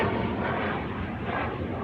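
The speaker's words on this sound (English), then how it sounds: "I wish I could catch that jet" A jet airplane passing high overhead above Houston produces a broad, distant rumbling roar that holds steady without any speech.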